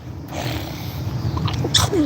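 A single sharp sneeze bursts out near the end, close and loud, over a steady low background hum.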